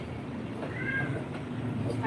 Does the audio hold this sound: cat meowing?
yes